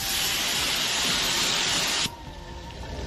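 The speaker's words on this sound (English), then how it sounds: "Look at the way that high heat steam gets straight into the grout lines, corners, and build up around the bathroom" A portable high-temperature steam cleaner blasts a steady, loud hiss of steam into bathroom grout lines and corners for about two seconds, then drops to a softer, lingering hiss.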